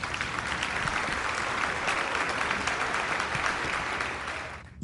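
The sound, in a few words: audience applause in a video game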